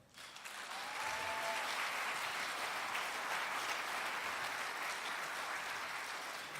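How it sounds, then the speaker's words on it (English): An audience gives a warm, sustained round of applause for a committed volunteer who helps with babies in a church nursery; dense clapping swells within the first second and holds steady and loud throughout. "give a warm round of applause to Heather Robertson"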